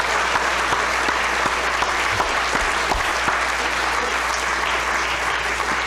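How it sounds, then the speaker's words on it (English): Lecture audience applauding steadily in a hall, a dense, even wash of clapping that holds at full strength for about six seconds with no voices on top. "I suggest we applaud him again."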